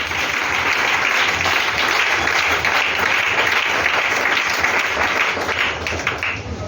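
A church congregation breaks into loud, sustained applause that fills the room and continues evenly for several seconds before tapering slightly at the end.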